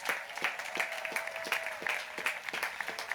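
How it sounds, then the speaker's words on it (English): An audience applauds graduates at a Class of 2020 graduation ceremony, with a steady, dense round of clapping that holds at moderate loudness throughout and no talking over it. "A rousing round of applause for our Kershaw graduates."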